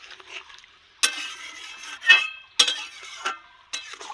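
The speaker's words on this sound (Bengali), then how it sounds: "ভালো করে নেড়ে দেবো।" A spoon scraping and knocking in a pot of rustic village-style chicken curry, several distinct clanks and stirring scrapes at uneven intervals, close and clear with no talk.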